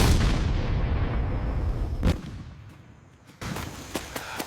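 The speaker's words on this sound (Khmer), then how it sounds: "ផ្ទុះទៀតហើយសង្ស័យតែពួកអាចោសៀមវាចូលមកជន់មីនទៀតហើយ" Explosions from a suspected landmine in a border area, a dense rumbling blast at the start fading over two seconds, then a sharp crack and a further burst followed by several smaller pops in the distance.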